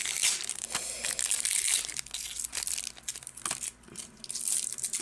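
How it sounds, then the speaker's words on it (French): Adhesive tape peeled and torn off the plastic packaging of Plasma Storm and Boundaries Crossed trading card tripacks, close and crinkly, with bursts of crackling and a brief tearing rip alone without talk. "Donc on va tout de suite enlever le scotch."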